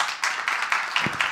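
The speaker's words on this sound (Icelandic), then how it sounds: "Gjörðu gott klapp." Audience applause at a talk on green investment and the green plan, a brief dense patter of hand claps close by, steady and fairly loud without voices.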